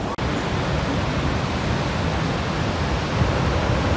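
Bridal Veil Falls at Niagara Falls, seen from the American side: a loud, constant roar of falling water that fills the whole clip, broad and unbroken, with only a faint bump at the start.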